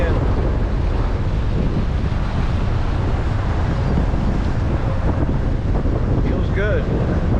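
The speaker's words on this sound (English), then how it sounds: "Getting thrown up into the wind." Strong wind buffets the microphone continuously during an ebike ride along a Buffalo lakeshore, feet from the water, a loud broadband roar that never lets up, with faint chirpy sounds near the end.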